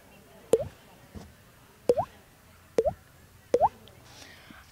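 Mouth sounds imitate falling water drops: four quiet, evenly spaced plops, close by, against a faint hiss of room noise.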